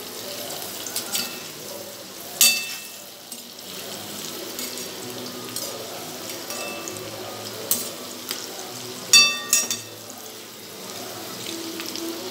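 Bajji fritters fry in hot oil, a soft steady sizzle with scattered sharper crackles and pops, heard near and alone with no talking.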